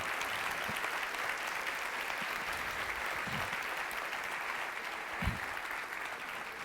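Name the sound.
congregation applauding louder in church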